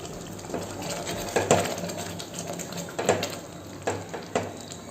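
Water poured into a pot of simmering Chettinad-style quail gravy, a steady hiss and splash with occasional clinks and stirring knocks, close up and moderately loud, no voices.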